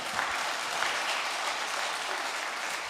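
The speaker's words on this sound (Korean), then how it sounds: "여러분 박수 해주시기 바랍니다." A church congregation claps steadily during a New Year revival service, a dense, even applause that holds throughout with no voices over it.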